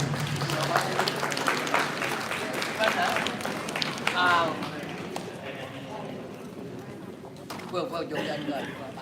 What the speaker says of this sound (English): Please, everyone give them a big hand of applause